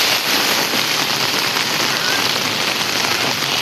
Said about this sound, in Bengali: এখন বৃষ্টি একটু কমলেও তাও বেশি বৃষ্টি হচ্ছে আপাতত